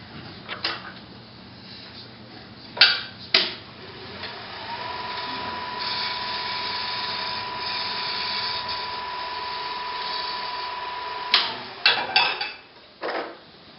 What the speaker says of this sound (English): Again, I'm doing a shear scrape because I'm on end grain.